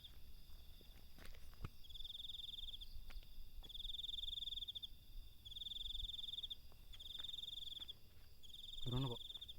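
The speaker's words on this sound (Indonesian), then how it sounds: "Suara jangkrik." Crickets chirp in steady, evenly spaced high trills outdoors during an expedition, with faint footsteps and rustling nearby and a brief low voice-like sound near the end.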